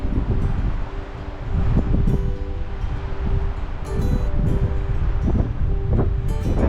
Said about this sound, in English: the wind has decided it wants to blow now.